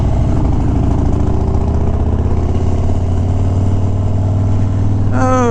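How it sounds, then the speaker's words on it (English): A car engine after a missed shift into second gear screams at a constant high pitch against the rev limiter, loud and close throughout, then drops sharply as the revs fall away at the very end; no talking. "I make sure to rev that shit out of it all the way to the rev limiter."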